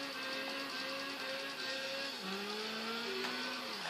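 A tuned Volkswagen Golf 6 engine drones steadily in the racing game Gran Turismo 5, with its pitch gliding up and down as the car accelerates and shifts. The sound is continuous and moderately loud.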